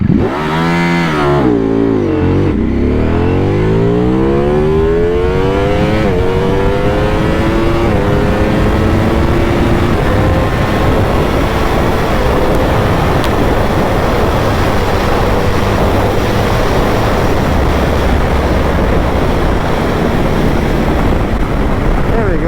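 A Ducati Panigale V4 sportbike launching hard in launch mode and accelerating through rapid upshifts, engine note climbing repeatedly before settling into loud sustained high-speed roar with heavy wind noise.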